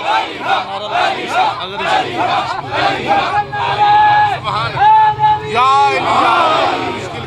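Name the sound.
majlis crowd chanting Ali Haq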